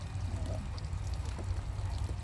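Water pouring steadily over blueberries being rinsed in a kitchen, a continuous close splashing trickle with a low rumble beneath and no talk.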